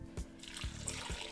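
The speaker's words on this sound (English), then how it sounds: "you are going to go ahead and add some water" Water poured into an Instant Pot insert holding potatoes, a soft, faint splashing and trickling with a few low gurgles, heard alone.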